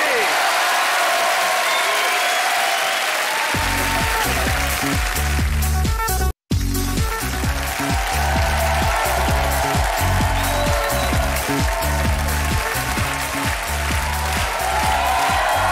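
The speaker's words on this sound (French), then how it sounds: "Applaudissements pour les filles et pour Eric et Ramzy" A television studio audience applauds and cheers loudly for a comedy duo and two co-hosts, a dense, sustained wash of clapping with a rhythmic thumping music beat under it and a brief cut midway.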